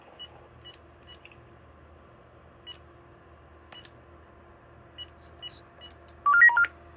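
A VTech phone plays dialing tones. A few faint, scattered beeps give way near the end to a quick, louder run of touch-tone digits against a quiet, humming background.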